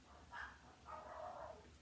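Dogs bark indoors in two faint, short bursts, a single bark followed by a longer double bark, heard from a distance under a low background hum.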